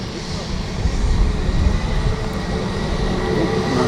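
A jet airliner takes off from runway 23R at Manchester Airport, a steady, loud broadband roar that holds throughout without a break.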